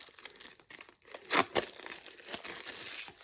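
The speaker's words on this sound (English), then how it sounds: "So they come all plastic wrapped, and you just need to take that wrapping off." Crinkly plastic wrap being pulled and torn off a new ink pad, with a couple of sharper crackling bursts in the middle and softer rustling around them, close up.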